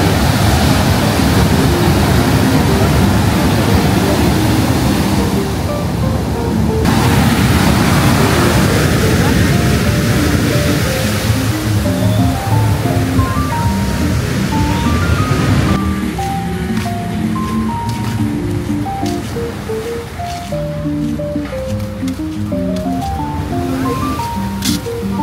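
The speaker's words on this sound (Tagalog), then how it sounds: "Pero lakas ng alon." Strong ocean waves at Kuta Beach, Bali, a loud continuous roar of surf washing in and out, with a faint voice talking underneath.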